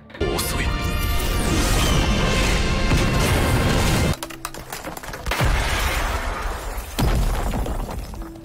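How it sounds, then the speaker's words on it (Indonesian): In an anime fight scene, a loud crystalline shattering crash as a monster breaks into ice shards, a dense roar lasting about four seconds, then scattered tinkling debris and a second burst of crashing. "Dan ngajar si monster sampai pecah jadi serpian es."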